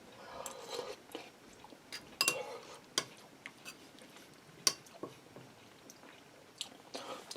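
Someone eats a bite of Instant Pot beef chili with beans and hamburger, with close, quiet chewing and a scattering of sharp irregular clicks and crunches of the mouth and spoon.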